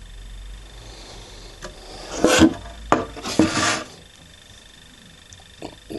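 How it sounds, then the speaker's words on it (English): Several rough rasping strokes of sanding on the wood of a dulcimer under construction, close and fairly loud, in short bursts with quieter gaps between. "So next step, I'm going to give it a sanding."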